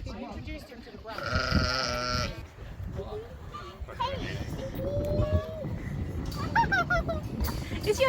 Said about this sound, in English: Is your dad holding a sheep?